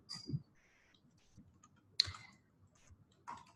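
A few sharp mouse clicks on software controls, including a Save button, sound in a quiet room, with a crisp click near the middle and faint handling noises around it.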